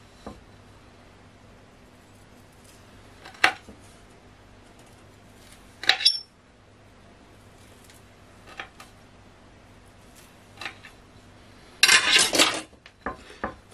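Jelly candies being cut in half on a hard surface, with a handful of sparse sharp clinks and taps spread apart and a denser rattling clatter of utensils near the end.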